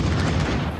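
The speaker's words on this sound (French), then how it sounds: "Deuxième explosion au Stade de France." An explosion at the Stade de France stadium arrives as a heavy, rumbling blast that fills the brief moment with dense, loud, low-reaching noise, with no distinct speech over it.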